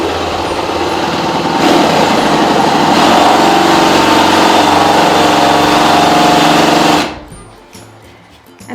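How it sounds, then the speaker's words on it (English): Power drill boring slowly into a wooden Christmas tree display piece, a loud, steady, close motor whine lasting about seven seconds before cutting off to quiet room sound. "So I insert this pointy tip into the hole, and slowly I start drilling."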